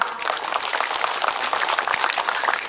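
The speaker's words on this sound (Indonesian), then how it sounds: "Tepuk tangan dulu untuk Karang Taruna." An audience applauds for Karang Taruna at a religious gathering with a comedic sermon in Ngilir, Kendal, a dense, steady burst of clapping heard close and loud.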